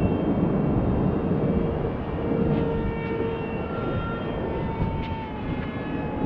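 A Freewing F35 model jet roars steadily overhead with a loud, continuous, rushing whine.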